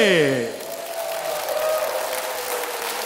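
Concert audience clapping in a steady patter after a song ends, loud at first and then fading to a softer continuous applause, with a voice speaking briefly at the start.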